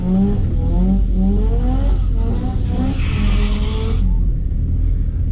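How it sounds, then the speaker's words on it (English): A BT 1.8T Mk2 GTI launches in a quarter-mile drag race against a Honda at a street-to-strip event, its turbo engine loud and close, revving up through rising gear pulls with a shift and a hissing whoosh near the end. "So I'm racing, I think I'm racing the Honda now."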